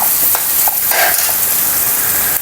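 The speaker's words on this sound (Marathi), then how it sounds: "आता हे कांदा असा छान परततोय" Onion sautéing in a pan with turmeric about to go in, a steady broadband sizzle with a few soft stirring scrapes, close and continuous with no talk.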